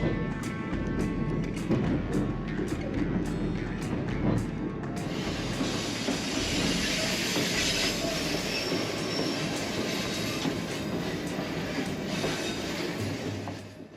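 A White Pass railway train on the Skagway route rolls steadily along the rails with a continuous rumble, rhythmic wheel clicks and a prolonged high squeal of wheels on track partway through.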